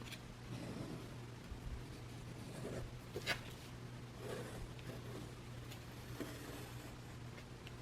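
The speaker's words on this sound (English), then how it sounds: "you can also put a line and draw around your template" A pen or pencil drawing a line around a paper template for an altered composition journal, heard as faint intermittent scratching strokes against a steady low hum, with a few sharper ticks.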